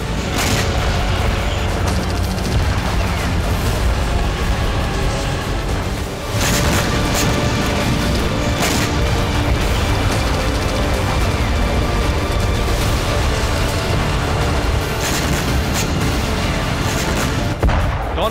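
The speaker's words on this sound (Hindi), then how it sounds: "के बागमोट इलाके में हुआ यह धमाका अब तक का सबसे घातक हमला था" Dense, loud rumbling of heavy blasts and booming impacts from wartime shelling in Bakhmut, Donbas, continuous and chaotic, with sharper bangs breaking through the din.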